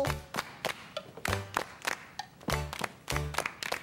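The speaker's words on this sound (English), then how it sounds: "Now it's going to be your turn to try the clapping part." Children clapping along to a song, a run of loud, quick, uneven hand claps in a rough rhythm, with tonal singing and music between claps.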